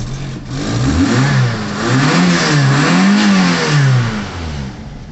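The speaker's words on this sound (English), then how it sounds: "Let's start it up." A 1987 Saab 900i engine catches and revs up and down in several swelling pulses, loud and close, settling between blips.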